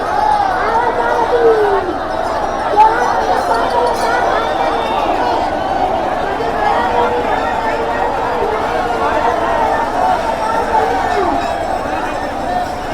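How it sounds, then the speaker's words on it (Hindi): A dense crowd of devotees packs the main entrance of Gupta Dham temple during Mahashivratri, a continuous murmur of many voices with chatter and occasional clinks, steady and close throughout. "यहाँ पर भी देखिए लोगों की भीड़"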